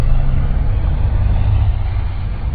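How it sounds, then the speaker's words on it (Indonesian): Heavy truck loaded with wood rumbles steadily in a low, dense drone, a continuous engine noise with no distinct events and no voices. "truk yang mengangkut kayu tadi pun juga terdengar telah pergi dari sana"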